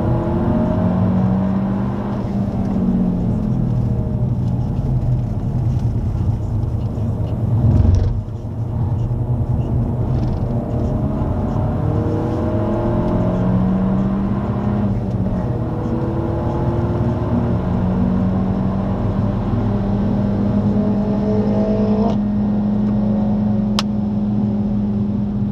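A Peugeot 308 GTi pulls hard on the track at Le Mans, its engine note droning steadily and climbing under sustained acceleration, loud and close from inside the cabin with a brief thump partway through.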